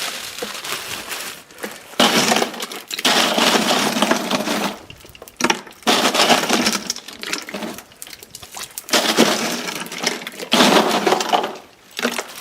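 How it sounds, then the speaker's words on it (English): Ice cubes are dumped into a pot of homemade chicken bone broth in several loud, clattering bursts with short pauses between them, crackling and rattling close by with no talking. "put some ice in the actual broth. That'll cool it down quick."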